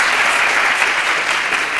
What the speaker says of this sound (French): Applaudissez ma copine.